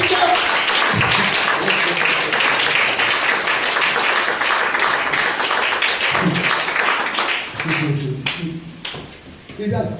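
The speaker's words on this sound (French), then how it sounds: "Applaudissez pour ça!" A church congregation bursts into sustained applause, a dense wash of clapping, while voices shout and talk over it, and the clapping thins out toward the end.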